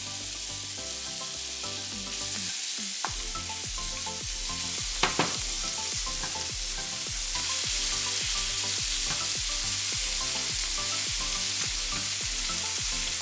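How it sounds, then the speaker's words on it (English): Bacon sizzles and crackles steadily in a hot pan on high heat for fried rice, a continuous close frying hiss with occasional sharp pops and no talk. "The pan is heated, and now we're going to add the bacon."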